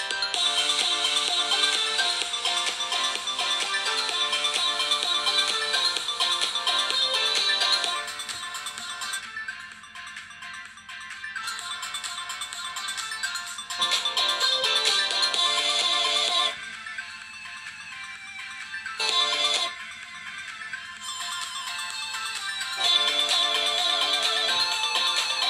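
A melodic ringtone plays from a Xiaomi Mi Note 3 phone speaker, a bright electronic tune with repeating phrases and short pauses, heard alone at moderate volume.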